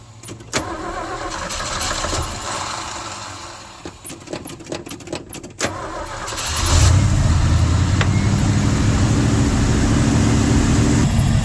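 A 1971 Ford F100 with an FE 360 V8, abandoned for 39 years, cranks through several short bursts before catching and settling into a loud, steady, rough idle up close.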